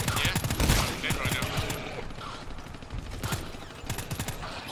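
Heavy SMG firing in the shooter game GTFO, a steady run of rapid automatic shots that stays moderately loud for several seconds, with occasional voices mixed in.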